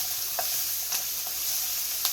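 Onions sizzle steadily in a hot pan, with a few soft scrapes of stirring cutting through the continuous close frying hiss.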